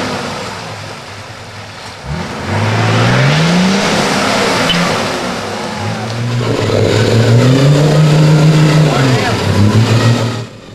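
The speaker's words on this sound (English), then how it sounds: "he's reversing out of the bog hole as well" 4WD engine revving hard as it reverses out of a muddy bog hole, rising and falling in two long surges, loud and close, with a voice commentating over it.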